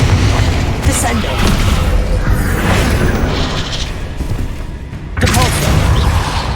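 Booming spell explosions in Hogwarts Legacy combat, a dense run of loud thuds and blasts with crackling bursts, continuous and close, while a voice calls out spell names over them.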